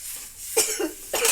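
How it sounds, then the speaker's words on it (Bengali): Two sharp, close coughs about half a second apart in a quiet kitchen where lentil dal is being cooked, with no talking. "খুব কাশি পাচ্ছে গো।"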